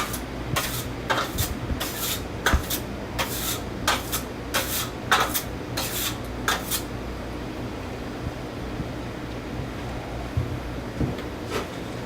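Hand sanding of a dried drywall mud seam: a series of rasping, scratchy strokes in bursts over steady fan or air-conditioner hum, with the strokes stopping after about seven seconds and leaving the hum.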